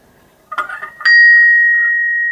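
A small bell hung on a cottage door in the Yorkshire Dales rings once after a brief rattle, its bright tone sustaining and slowly fading, close and clear with no talk.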